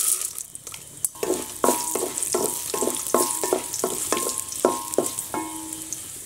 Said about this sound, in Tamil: எண்ணெய் சூடாயிடுச்சு கடுகு சேர்த்துக்கலாம் அது கூடவே கடலை பருப்பு சேர்த்துக்கலாம்